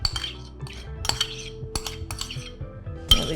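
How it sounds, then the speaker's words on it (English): Chopped tomato goes into a chickpea salad, heard as close clinks and scrapes of cutlery against a bowl and dish in short irregular bursts, with no talking over it. "Next, I'm going to add some chopped tomato."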